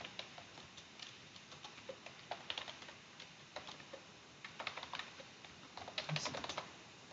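Keystrokes on a computer keyboard come in light, irregular clusters as someone fills in a web form, quiet and close with short pauses between bursts of typing.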